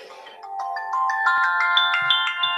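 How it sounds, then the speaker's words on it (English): A phone's melodic ringtone plays loudly and steadily, repeating bright chiming notes in a rising pattern with no talk over it. "and there goes a phone"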